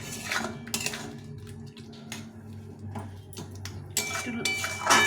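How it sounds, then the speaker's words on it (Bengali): Tomato pickle stirred in a pan, with repeated clinks and scrapes of a metal utensil against the pan in irregular bursts over a low hum of cooking. "সুন্দরভাবে এভাবে ঘেট নেড়ে নেড়ে নেড়ে আচাটাকে তৈরি করে নিতে হবে"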